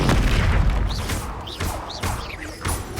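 Repeated Bombarda explosion spells go off in Hogwarts Legacy, several loud booming blasts spaced about half a second apart, each with a whooshing tail.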